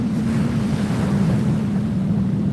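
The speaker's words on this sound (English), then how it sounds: "Pretty day at the beach, but kind of windy." Steady low rumble of wind buffeting the microphone at an ocean beach, with a wash of surf underneath; no voices, just continuous blustery noise.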